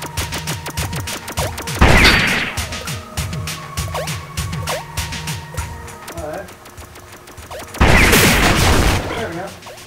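Video game shooting in Iconoclasts, with bursts of loud blasts and crashes among synthetic effects and siren-like tones, while a person talks over the gameplay.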